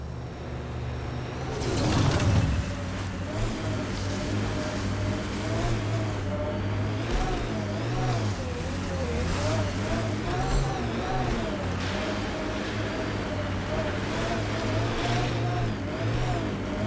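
A vehicle in Mass Effect: Andromeda drives with a steady engine drone that rises and falls in pitch as it revs and corners, close and continuous, with a brief surge early on.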